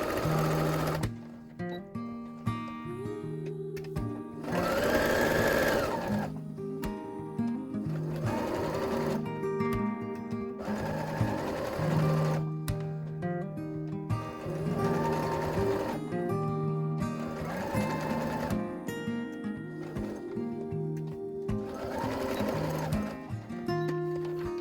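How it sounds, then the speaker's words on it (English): Sewing machine stitching around fabric heart-shaped corner bookmarks made from scraps, rapid mechanical whirring in repeated bursts of a few seconds each, separated by short pauses, close and clear. "So let's get our sewing machine"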